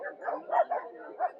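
Dogs at a pet adoption event in Hart Park give a run of yipping, whimpering barks, several short bursts close by with voices mixed in.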